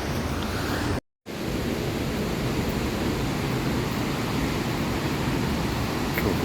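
Victoria Falls roars with a constant, broad wash of thundering water, loud and unbroken apart from a brief dropout near the start.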